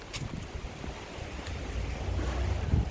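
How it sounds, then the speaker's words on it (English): Wind gusts on a blustery day outdoors, rumbling against the microphone in a rough, steady roar that swells toward the end, with no voices. "it's still a bit windy"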